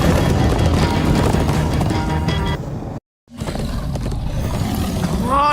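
Horses gallop in the Minecraft Story Mode game, with steady clip-clop hoofbeats and a neigh over a busy music-and-effects bed, cut by a brief gap of silence before the galloping resumes.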